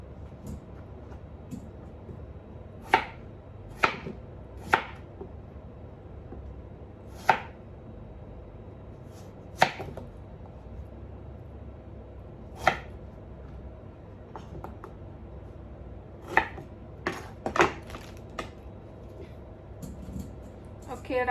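A knife chops through a winter melon on a board, with sharp isolated thwacks spaced a few seconds apart and a quicker cluster near the end, set against a low steady background hum.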